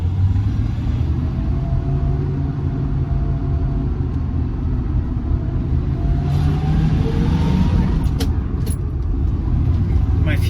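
A 1973 Ford Maverick, back on the road after two years and still not fully sorted, cruises slowly on quiet side streets, its engine a steady low rumble heard close from inside the car.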